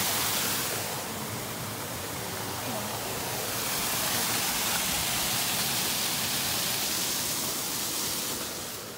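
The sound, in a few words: waterfall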